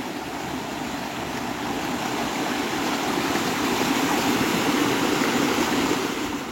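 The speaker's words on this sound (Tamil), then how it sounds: "இதில் பாருங்கள், தண்ணி ஒரு ஊற்றுலேருந்து வர்ற மாதிரி இந்த இடத்துல இருந்து வருது." Spring water pouring out of rock near the Bad Urach waterfall in Germany, a loud, steady, broadband rush of flowing water that holds constant throughout with no voices.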